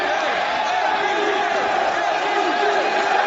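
A standing-room-only wrestling crowd in Summit, Illinois roars in a steady, dense wall of cheering and shouting that fills the arena, with commentary running over it.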